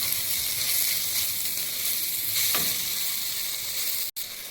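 Tomato, salt and garam masala stirred together in a hot pan, giving a steady close sizzle and hiss that runs evenly throughout, with a brief dropout near the end.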